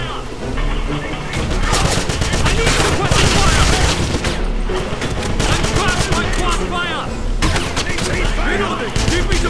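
Rapid bursts of gunfire from a Wolfenstein shooter game, mixing automatic fire and single shots, loud and dense throughout with overlapping battle noise and shouted voices underneath.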